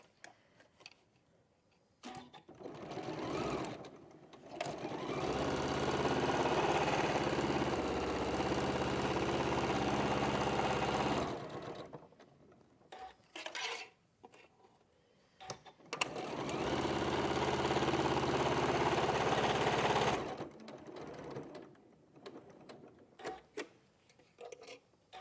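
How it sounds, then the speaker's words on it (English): A sewing machine stitches a seam and locks the stitch by a turning gap, in two sustained whirring runs of several seconds each with a quiet pause between them and scattered clicks and handling noises. "I'm just going to do a quick lock stitch, because then when I turn through, it's not going to rip the seam"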